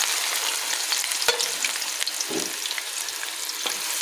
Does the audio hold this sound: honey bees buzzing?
no